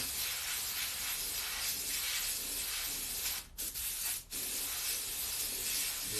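Airbrush hissing as it sprays paint onto a black t-shirt, a steady close spray with two brief cutoffs where the trigger releases before the spray resumes.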